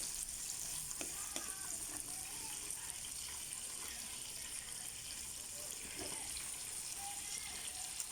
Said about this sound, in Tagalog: Prito muna natin sibuyas na puti.